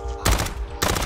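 Gunfire in Call of Duty: Warzone, two sharp bursts of rapid automatic shots separated by a brief gap, loud and close in the game mix.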